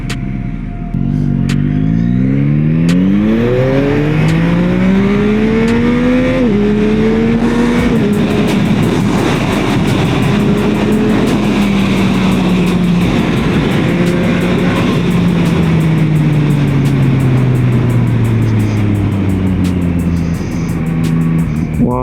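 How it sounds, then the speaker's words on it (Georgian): A Yamaha XSR 900 motorcycle engine revs hard through its gears, its pitch climbing in repeated sweeps broken by shifts, loud and close for the full stretch with no talking. "ბიჭო ცეცხლივით მოტო"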